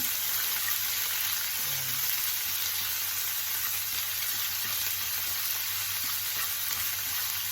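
Garlic and pork frying in a pan, a steady low sizzle running unbroken throughout, fairly quiet and close with no voices.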